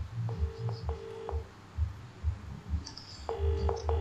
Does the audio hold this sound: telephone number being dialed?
yes